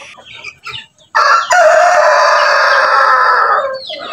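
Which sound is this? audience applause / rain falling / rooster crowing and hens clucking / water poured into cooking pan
rooster crowing and hens clucking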